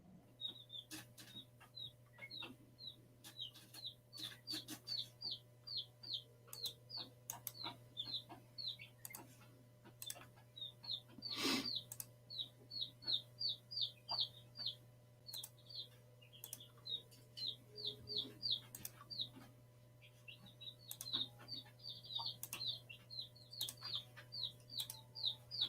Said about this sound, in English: my chickens are loud, aren't they?